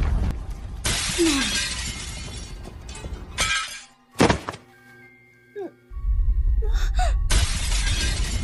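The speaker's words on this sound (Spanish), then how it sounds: "Se rompió." Glass shattering in a burst of bright crashing and scattered falling shards, loud and up close, amid a dubbed anime school scene with background music and short gasps.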